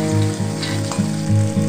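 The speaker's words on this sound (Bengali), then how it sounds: "এবারে একটু জল দিয়ে এটা ভালো করে ভেজে নেব। এবার আমি ভেজে রাখা বড়িগুলো দিয়ে দিচ্ছি।" Spinach and fried lentil dumplings (bori) sizzle in a pan with a little water, a steady close frying hiss over a rhythmic low hum that pulses about every half second.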